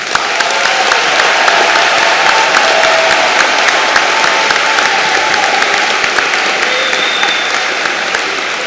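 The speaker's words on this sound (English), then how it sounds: "A round of applause for these graduates, please." A large commencement crowd applauds graduates of the School of Business and Liberal Arts, a loud, dense, continuous wash of clapping that holds steady throughout with a faint murmur of voices beneath.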